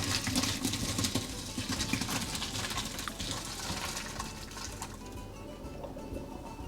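Pasta water pours and splashes through a strainer into a kitchen sink, a steady close rushing patter that gradually thins out, with no talk.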